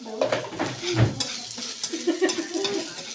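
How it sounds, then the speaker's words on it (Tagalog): Onions and garlic sauté in a pan: close sizzling and frying mixed with a utensil scraping and stirring against the metal in short irregular strokes. "Tapos nagisa tayo ng sibuyas, bawang."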